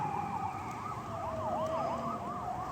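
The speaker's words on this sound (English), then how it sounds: "Siren's on." A small fire truck's siren wails, sweeping up and down in steady repeated cycles, moderately loud and continuous with traffic noise beneath, as it passes nearby heading into town.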